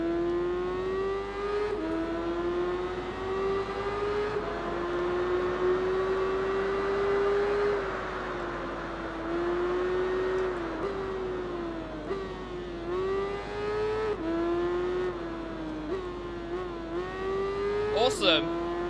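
A heavyweight superbike in the Tourist Trophy video game holds a loud, steady high-pitched engine note at top speed, with brief dips at gear shifts and a short squeal near the end.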